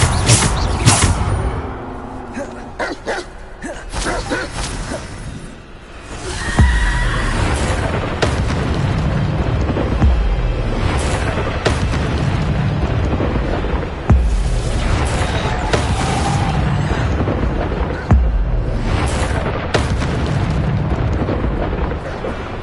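Spell impacts from Descendo in the game Hogwarts Legacy, with repeated booming crashes and rumbling bursts over a dense, loud, continuous game soundscape.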